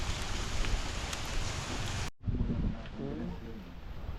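Rain falls steadily at a market, a dense hiss of drops on surfaces that drops out abruptly midway, then returns softer with a voice speaking nearby.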